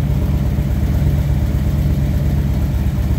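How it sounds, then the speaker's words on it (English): A 2012 Harley-Davidson Road King left running in place, its engine holding a steady, loud low rumble throughout with no change in pace. "So I'm going to let it run for a few minutes to see if the light comes on or not"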